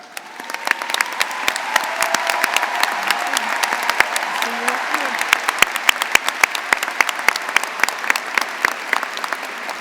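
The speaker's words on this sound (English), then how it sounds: "please stand and let us give you a round of applause" Sustained applause from a graduation audience honoring faculty and staff, dense steady clapping with sharp individual claps popping out across the full length, loud and near throughout.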